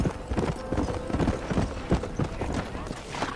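Horse hooves clip-clopping on ground in the Red Dead Redemption video game, a steady close rhythm of hoof beats with a faint whinny and some game voice underneath.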